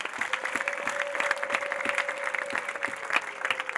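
Worshippers at an evening church service break into steady communal clapping, a dense, even patter of many hands close by, with a faint sustained tone running beneath it.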